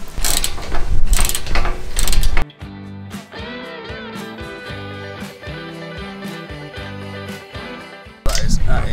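A ratchet clicks in quick repeated bursts while bolting Rhino modular roof rack clamps onto footings on a Sprinter van, close and mechanical between louder handling noises at the start and end.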